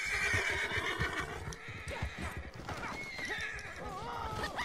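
A horse in the Red Dead Redemption 2 video game whinnies loudly and repeatedly, with clip-clopping hooves beneath, close and continuous, with faint voices in the background.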